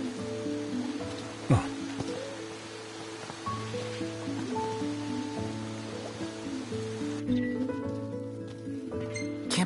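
Steady rain patters and hisses over a soft ambient background in Final Fantasy XV's Myrlwoods, with a few faint clicks and tones scattered through.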